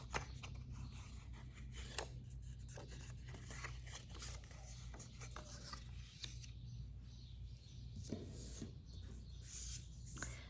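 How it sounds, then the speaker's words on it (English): Cardstock card blank for a Z-fold pop-up card being folded along its score lines: quiet, close paper rustles, creases and soft rubbing scrapes spread across the clip, with no talk. "first thing we want to do is to fold along our score lines"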